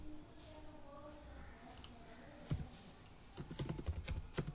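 Keys clatter on a computer keyboard in quick irregular bursts, sparse at first then denser toward the end, close by over a low room hum.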